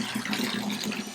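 Tap water runs steadily while an iPhone is washed under it, a close, continuous gushing hiss with slight fluctuation and no voices.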